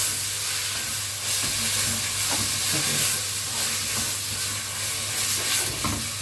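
Onions sauté for kibbeh in a hot pan, giving a steady, loud sizzle and hiss with faint stirring scrapes and no voices.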